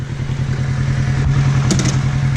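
Motorcycle engine idling and lugging in first gear through slow, tight turns on a village street in San Martín de Trevejo, a loud, close, steady low rumble with a brief clatter and blip near the end.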